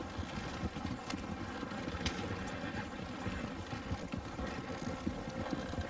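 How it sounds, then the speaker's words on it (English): Horse hooves clip-clop steadily in the Red Dead video game, a close, continuous patter of overlapping steps over a faint outdoor ambience, with no voices. "look at the horses!"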